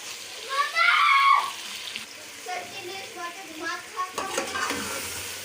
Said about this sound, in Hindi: चिकन भून चुका है, अब हम उसे निकाल लेंगे